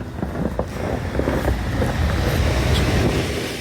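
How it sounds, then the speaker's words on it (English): A Carrier rooftop HVAC unit's fan motor runs after a cooling call, giving a loud, steady whooshing rumble with scattered clicks and rattles, no voices. "The fan motor turned on in there"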